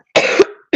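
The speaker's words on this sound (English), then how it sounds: "My cough is terrible." One harsh, close cough, loud and brief, standing alone in a quiet room.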